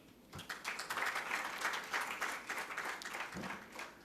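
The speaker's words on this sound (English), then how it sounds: "Please give a huge round of applause for Krishna Mohan" An audience at a tech conference applauds speaker Krishna Mohan, a senior technology manager, with a steady, soft wash of many hands clapping at a distance, fairly even throughout.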